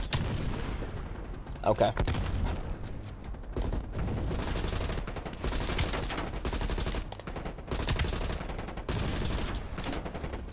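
Sustained automatic gunfire in the shooter Call of Duty: Black Ops Cold War, with steady rapid bursts running almost the whole time at moderate level, over game ambience, and a single short spoken word partway through.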